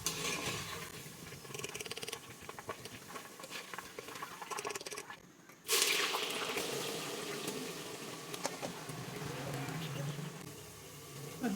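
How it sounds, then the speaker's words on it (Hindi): Onions dropped into hot oil in a pan while making aloo karela, a sudden loud sizzle bursting in midway and continuing as a steady crackle, with a voice speaking over it. "फिर इसी तेल में हमने तेल थोड़ा कर लेना है, तो फिर हमने उसी में प्याज डालना है।"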